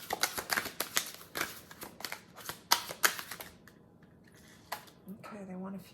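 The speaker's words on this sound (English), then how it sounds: "I'm having trouble shuffling today." Tarot cards being shuffled by hand: a quick run of crisp, papery riffles and slaps for about three seconds, then a few scattered flicks and soft handling noises close to the listener.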